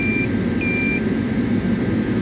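A battery load tester gives two short electronic beeps, the second one longer, over a steady low engine-like rumble.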